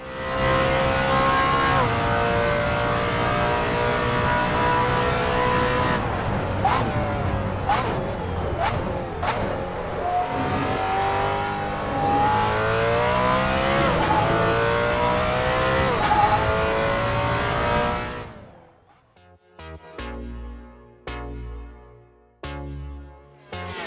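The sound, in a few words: GT3 race car engine in video game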